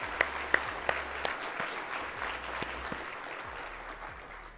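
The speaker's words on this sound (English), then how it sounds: "We need to owe them a round of applause." A luncheon audience at a chamber of commerce keynote claps for law enforcement first responders, a steady round of applause with a few sharp near claps at the start, fading gradually over several seconds.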